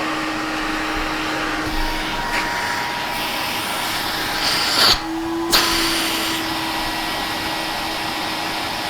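A TriStar canister vacuum cleaner runs with a steady loud motor whine and airflow roar, briefly cutting out and restarting partway through before settling back into its continuous hum.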